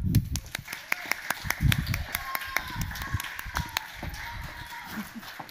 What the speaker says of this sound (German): Deshalb ganz, ganz, ganz großen Applaus